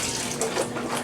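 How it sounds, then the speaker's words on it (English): A kitchen tap runs steadily over collard greens being rinsed, a close continuous splashing hiss with no voices. "I'm going to rinse them off again."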